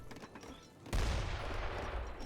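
Mortar fire and gunfire in the video game Age of Empires III, a sudden loud burst of crackling shots and booms that rolls on after a quieter stretch.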